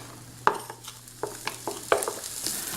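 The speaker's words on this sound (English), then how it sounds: "what I'm doing is just quick sauteing these" Jalapeños, red chili pepper and green onion sauté in a pan, with a soft sizzle under a series of sharp clacks and scrapes from stirring, close and irregular, no talk.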